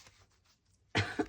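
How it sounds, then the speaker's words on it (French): A single sharp cough, close and loud, bursting out after a near-silent pause, with a short second catch at its tail. "Excusez-moi, je tousse."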